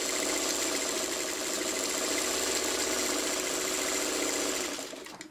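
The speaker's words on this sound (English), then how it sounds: "And we're just going to sew all the way along." A sewing machine stitches quilt fabric in one steady, continuous run, its even mechanical whir holding nearly constant before it slows and stops at the end.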